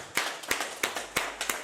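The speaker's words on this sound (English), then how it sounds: "big round of applause for everyone on right now" Handclaps ring out for an audience, five sharp, evenly spaced claps in a steady rhythm, close and clear with nothing else around them.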